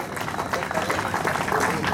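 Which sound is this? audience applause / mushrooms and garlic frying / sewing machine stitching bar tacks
audience applause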